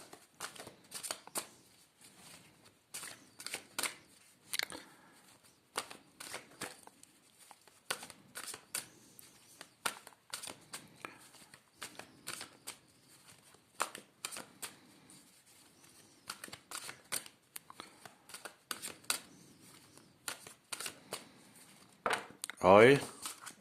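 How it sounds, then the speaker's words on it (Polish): Tarot cards are shuffled by hand, producing repeated soft riffling and flicking bursts in an irregular rhythm, close and quiet, with a louder flurry at the end. "Oczywiście najpierw tasowanie."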